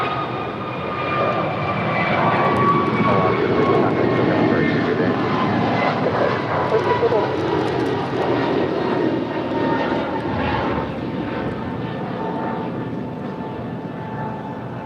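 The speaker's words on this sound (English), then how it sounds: "Alaska Airlines Flight 6 heading to Washington National. It's an A321neo." Alaska Airlines Airbus A321neo jet at LAX, a loud engine roar that swells and then slowly fades over about fifteen seconds, steady and sustained.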